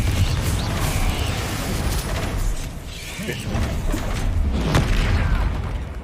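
The Confringo fire spell goes off in Hogwarts Legacy with a dense, rumbling burst and a roar of game effects that rise and fall over several seconds and stay loud throughout.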